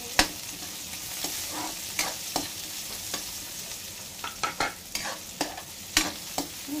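Garlic and onion sautéing in a hot pan for a beef dish, a continuous sizzle broken by repeated sharp scrapes and clacks of a stirring utensil, some quick strokes bunched together.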